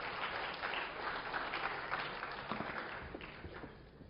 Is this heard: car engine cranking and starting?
no